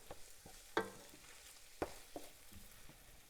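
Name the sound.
tomato paste cooking down in pan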